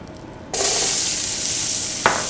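Celery, onion and carrots hit a hot pan beside seared lamb shanks, setting off a sudden loud sizzle that holds steady, with a second sharp burst of frying as more vegetables drop in near the end.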